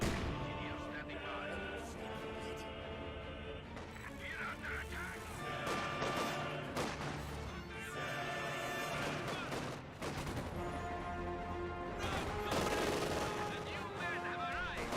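Company of Heroes 2 battle gunfire: bursts of rifle and machine-gun shots, crashes and impacts that crackle continuously over game music and voice lines.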